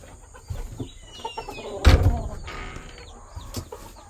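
Chickens cluck and fuss nearby in scattered bursts, with rustling and thumps around them.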